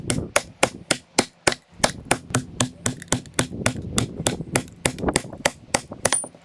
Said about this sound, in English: we're going to actually use the block splitter to continue with this cut and the split